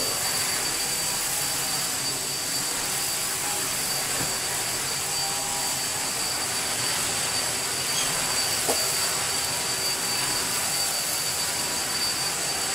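A dying Bosch Athlet vacuum cleaner runs with a constant loud whine and broadband rushing roar, unbroken throughout, no talking.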